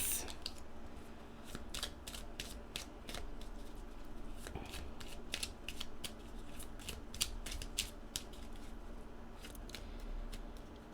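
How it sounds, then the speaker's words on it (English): Tarot cards are shuffled rapidly by hand, giving a continuous series of crisp riffling snaps and flicks at close range, steady and dense throughout. "Cards are flying out of my hands."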